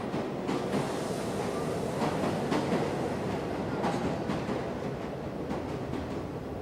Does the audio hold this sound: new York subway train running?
yes